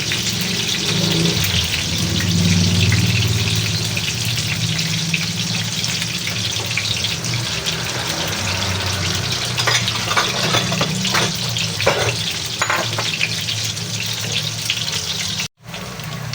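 Eggplant frying in hot oil in a pan for Bicol Express, giving a steady, close sizzle and crackle that runs throughout with small pops and no talking.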